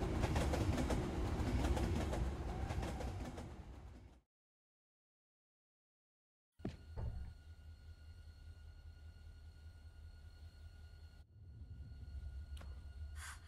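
Rumbling train noise with clattering in a game, cut off by a few seconds of silence, then a quieter mechanical hum with faint clicks and tones.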